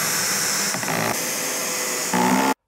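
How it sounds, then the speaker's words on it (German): Power tool driving long screws into an IKEA Kallax shelf: a steady, loud whirring drone that shifts pitch a few times and cuts off abruptly at the end. "Nun das Regal aber erst einmal mit unseren vier langen Schrauben hier unten festschrauben"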